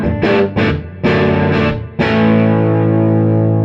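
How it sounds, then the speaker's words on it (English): Digital guitar set to a Les Paul type tone plays a few loud, distorted chords with effects, the last one left ringing and sustaining. "You're moving from a Les Paul type sound"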